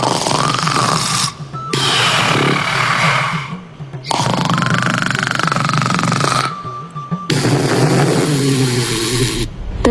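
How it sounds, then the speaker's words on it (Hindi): Loud, rough snoring in long repeated breaths, each a harsh rasping drone broken by brief pauses, close and steady throughout. "भूकंप जितने तेज खर्राटे लेते हुए सो"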